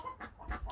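Backyard chickens in a flock, with new birds being added, give a few soft, faint clucks in quick succession.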